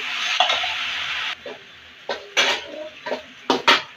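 Rice frying in a little oil in a pot: a steady sizzle for over a second, then several sharp metallic scrapes and clanks of a spoon stirring against the pot, close by.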